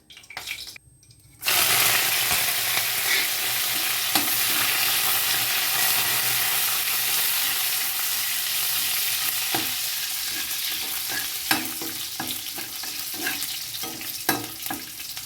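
Curry leaves and coriander hit a hot pan along with bay leaf and spices and sizzle loudly. The frying sound is continuous and close, with scattered clicks and scrapes as the mix is stirred.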